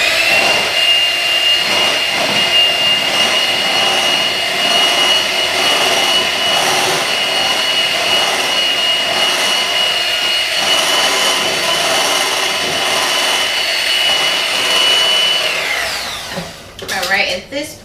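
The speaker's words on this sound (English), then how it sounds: "I like to just kind of like mix it up with the mixer first and then turn it on" An electric mixer whirs steadily through chocolate cake batter with cocoa in the bowl, a loud continuous motor hum with a slightly pulsing texture that runs for most of the stretch before the mixer is shut off and clatters at the end.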